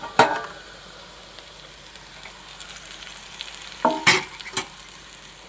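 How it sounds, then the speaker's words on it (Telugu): Gongura leaves stirred with onions in a pan, a soft steady sizzle broken by a few sharp spatula scrapes and clinks, one near the start and a cluster toward the end. "ఇలా తిప్పుకోవాలి మొత్తం కలిసేదాకా తిప్పుకొని"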